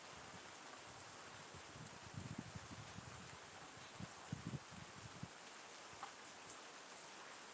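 Steady rain falls outdoors with the wind coming from the west, a soft broadband patter and hiss throughout, with a few louder low thumps of drops or gusts midway and no voices.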